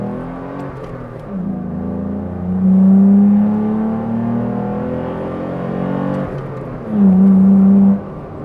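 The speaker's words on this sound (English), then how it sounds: "You can hear the intake." A Toyota Tacoma with an aFe Momentum GT cold air intake and scoop revs twice, each rise swelling into a loud intake whoosh and roar before settling back to a smooth idle.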